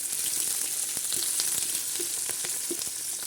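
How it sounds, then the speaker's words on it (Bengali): Onions sizzle steadily in hot oil with bay leaf and cinnamon added, a loud continuous frying hiss broken by occasional soft stirring clicks. "এই যে তেজপাতা, তারপরে দারচিনি, পেঁয়াজের সাথে একটু ভেজে নেব।"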